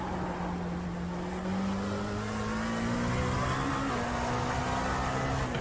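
A race car engine from the iRacing sim, an LMP2 or GTE prototype at Indianapolis Motor Speedway, droning loud and steady while the pitch climbs through the revs, with a gear shift midway and no voices.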